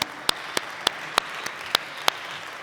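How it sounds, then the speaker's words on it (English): Conference audience applauding after a speaker, sparse scattered claps with several sharp distinct hand claps over a soft background, brief and moderately distant. "A huge round of applause to Gabe."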